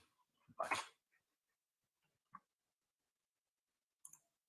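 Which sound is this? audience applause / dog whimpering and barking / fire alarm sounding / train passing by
dog whimpering and barking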